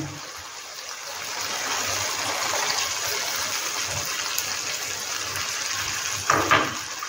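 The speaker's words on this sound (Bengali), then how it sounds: "আমি এখানে 1 কাপ দুধ দিলাম আর 1 কাপ আমি জল দিলাম।" Milk and water poured into a pan of creamy, spicy chicken curry, giving a steady close rushing, gushing liquid sound that runs for several seconds with a brief louder splash near the end.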